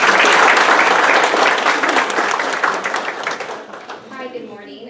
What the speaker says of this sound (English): Come on up, and please give her a round of applause